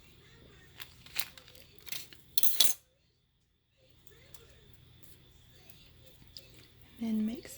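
Chunky glitter is stirred into UV resin with a small tool, scraping and clinking in short bursts with a pause, then a final scrape.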